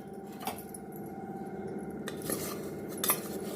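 Jaggery mixture stirred in a pan to melt it, with a steady scraping and clinking of a utensil against the metal pan and a few sharper knocks, close and alone without talk.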